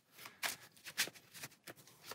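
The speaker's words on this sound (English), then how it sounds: "Give it a shuffle the best I can." A deck of Dune Imperium board game cards is shuffled by hand at close range, with several quick riffling bursts in an irregular rhythm and no talking.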